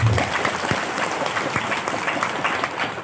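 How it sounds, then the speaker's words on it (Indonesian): Crowd applause fills a community halal bihalal gathering of the NU organisation, a dense, steady wash of many hands clapping at moderate level for the full three seconds with no voices over it. "Beri tepuk tangan buat kami."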